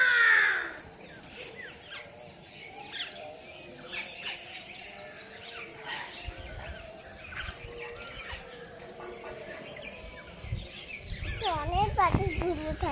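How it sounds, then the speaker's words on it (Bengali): Crows and other birds gather for food in the morning, cawing and squawking intermittently at moderate distance while people talk nearby. "অনেক পাখি ঘুরে থাকছে।"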